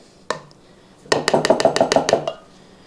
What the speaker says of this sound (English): I whisk them up for a minute